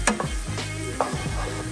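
Flour being stirred into a pan of fat for biscuit gravy, a spoon scraping and swishing through the mixture in close, steady strokes with a light sizzle underneath.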